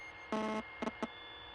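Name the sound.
buzzing noise in headphones, from video game The Suicide of Rachel Foster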